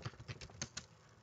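A few keystrokes at a computer keyboard while a search is entered into Google, a handful of soft, irregular taps spread over about a second with nothing else around them.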